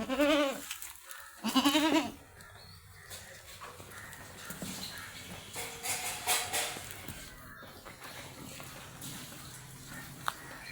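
A milking goat that has kidded twice bleats twice up close at a livestock sale, then a steady outdoor hum with faint scattered farm noise follows.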